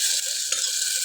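Turmeric and salt fry in a pan, a close, steady hiss of sizzling with one small scrape partway through, no voices.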